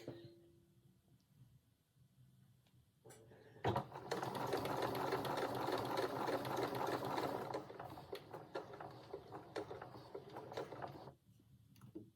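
A sewing machine stitches around the edge of an Isabella dress: after a quiet start, the machine runs in one steady, close, whirring burst for about seven seconds, then stops.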